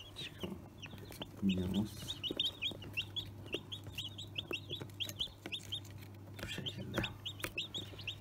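Bresse chicks in a hatchery cluck and peep in quick, high, scattered bursts at close range, with a steady low hum beneath and a brief spoken word.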